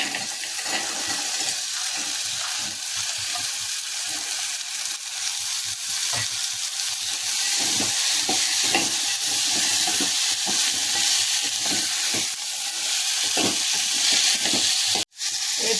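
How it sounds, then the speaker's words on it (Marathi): A cupful of soaked chickpeas fries in hot oil with softened garlic and tomato for spicy chana, giving a loud, close, continuous sizzle with crackling spatter and occasional scraping stirs throughout. "आता यामध्ये आपण तेल सुटल्यानंतर हे भिजत घातलेले चणे आहेत वाटीभर ते घालणार आहोत।"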